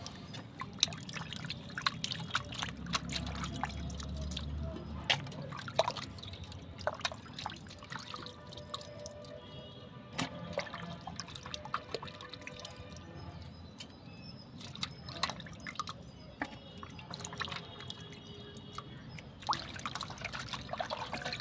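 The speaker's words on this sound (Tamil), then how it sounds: "குழாயில் வர்ற தண்ணியிலையும் கழுவுறேன் நான்" Tap water running while rock fish are washed, a quiet trickling and pouring stream with scattered splashes and drips as the fish is handled, uneven and close, no talking.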